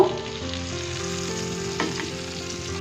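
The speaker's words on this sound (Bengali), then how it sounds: "এভাবে এক এক করে আমি সবগুলো মাছ এভাবে লাল করে ভেজে নেব" Prawns fry in oil in a pan for a dopeyaza, giving a steady, close sizzle with faint stirring and utensil clinks throughout and no talking.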